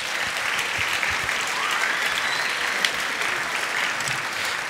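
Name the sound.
audience applause at a school band concert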